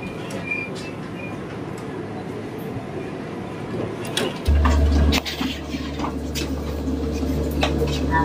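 Vande Bharat Express on the Nagpur–Pune run between Wardha and Shegaon, a continuous rolling rumble that swells into a heavier thump and roar partway through, with no clear talk.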